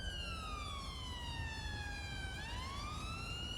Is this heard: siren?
yes